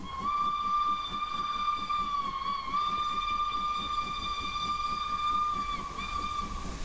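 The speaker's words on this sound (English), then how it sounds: "Mayflower does have a very high-pitched whistle." Steam whistle of an LNER Thompson B1 locomotive in the Train Simulator game: a loud, high-pitched sustained toot with a brief break, over a steady rhythmic hiss and chuff of the engine.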